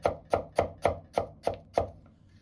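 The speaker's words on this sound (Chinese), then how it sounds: "再斜刀切成大塊，然後切成稍微厚點的菱形片" A knife chops a peeled king oyster mushroom into thick diamond slices on a board, seven crisp, evenly spaced strokes close by with no talking.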